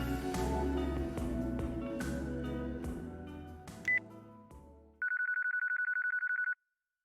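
A cell phone rings in the video game Yakuza 4, a rapid pulsing electronic trill lasting about a second and a half, heard clearly on its own after a stretch of busy game music and noise cuts off.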